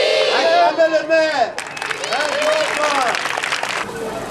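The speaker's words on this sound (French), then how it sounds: "Acclamez le maire!" Children clap and cheer for the mayor at a Christmas gift event in Bangolo, with dense applause and excited voices rising after a speaker's call.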